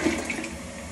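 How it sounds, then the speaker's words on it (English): Rushing water of a toilet flushing in a comedy skit, a broad steady wash of noise that holds for about a second at moderate level, heard alone without talk. "Don't forget to flush, LaBoogie."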